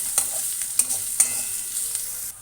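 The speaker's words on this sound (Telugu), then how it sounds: "ఉల్లిపాయలు వేగాయి కదా, ఇందులో బంగాళదుంప ముక్కలు వేసుకుందాము" Potato pieces tipped into a pan of fried onions and stirred, giving a steady sizzle broken by a few sharp scraping clatters from the spoon. The sound is close, moderately loud, and carries no voices.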